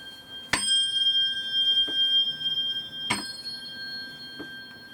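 Bright metallic tones ring out with sharp strikes, two main hits sustaining long pure pitches, with softer taps in between; quiet and clear, no voices.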